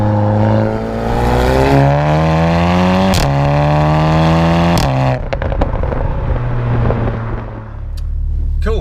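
A Volkswagen Golf R with an Akrapovic exhaust, heard from inside the cabin: the engine pulls hard through rising revs with two sharp gear shifts, then settles into a steady lower drone. Loud and close, with no talking.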